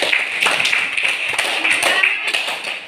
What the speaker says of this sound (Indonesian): Sekali lagi kita beri tepuk tangan untuk mereka.